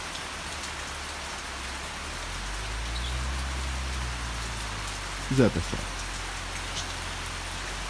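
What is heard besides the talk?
rain falling on a farm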